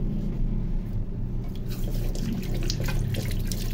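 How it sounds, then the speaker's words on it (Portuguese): Tap water runs steadily into a kitchen sink while hands are washed during home cooking, a close continuous splashing hiss with small irregular splatters and no talk. "Lavar a mão aqui."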